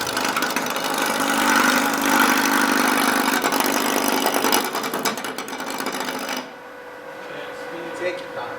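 A wood lathe spins an unbalanced workpiece at a turning demonstration, giving a loud, steady whirring drone with rattling vibration. It cuts off abruptly near the end, leaving quieter room sound.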